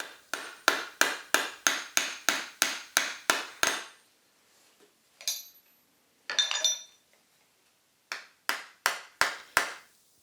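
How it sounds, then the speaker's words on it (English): Metal hammer repeatedly striking silver on a jeweller's bench: sharp ringing blows in a fast steady rhythm, a pause with a few lighter taps and clinks, then another quick run of strikes, close and clear. "It's very important when you're repeatedly hammering silver to make sure that the hammerhead is clean"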